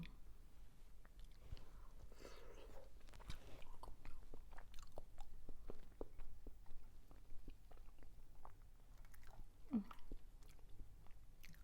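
Chewing and eating duck eggs, close and quiet, with soft wet bites and crunchy mouth sounds repeating irregularly and the occasional faint breath or murmur in between.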